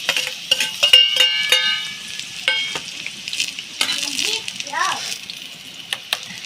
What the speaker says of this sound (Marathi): आता ही जी गोल भेंडी चिरून घेतलेली होती ती आता तेलामध्ये टाकते